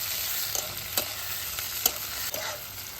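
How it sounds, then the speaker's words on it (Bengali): Tomato frying with onions in a pan for a Bengali village-style curry, a steady soft sizzle broken by several scraping stirs, close and fairly quiet, with no talking. "টমেটোটা একটু নেড়ে নিলাম, তখন পেঁয়াজের সাথে ভেজে নিলাম।"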